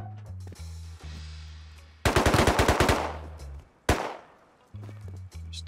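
Rapid automatic gunfire in an online survival video game near a decayed rock base, a close burst of quick shots followed by a single sharp report, with quieter game sounds between.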